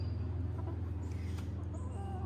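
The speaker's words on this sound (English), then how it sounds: "Chickens." Hens cluck and chatter close by over a steady low hum, with a few higher squawks rising near the middle and end.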